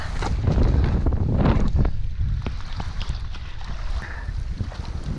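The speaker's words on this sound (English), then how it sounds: "Couldn't fight the wind, it was like a wall." Strong wind gusting across a lake in Labrador during a canoe trip, heavy buffeting roar on the microphone with splashing water and rocking boat noises, loud and constant for the whole stretch.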